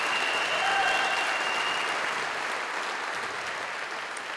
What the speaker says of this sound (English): Ladies and gentlemen, please give a huge round of applause to Jeane Freeman.